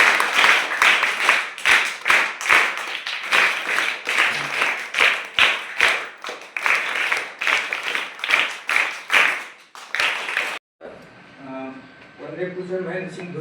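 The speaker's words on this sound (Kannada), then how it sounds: "ಎಲ್ಲ ತಂಡಗಳಿಗೂ ಒಂದು ಜೋರಾದ ಚಪ್ಪಾಳೆ" Loud, dense applause from a school audience for all the quiz teams at a village government primary school quiz event, rapid claps going for about ten seconds before cutting to music.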